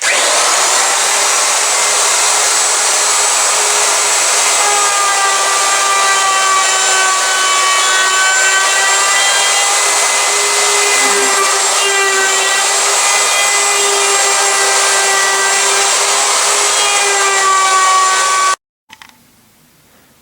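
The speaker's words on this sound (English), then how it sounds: "Take a 3/8 rounded router bit, clamp the piece down," A router fitted with a 3/8 inch rounded bit whines loudly and steadily as it shapes a clamped wooden piece for a turkey call, running for nearly twenty seconds before cutting off abruptly.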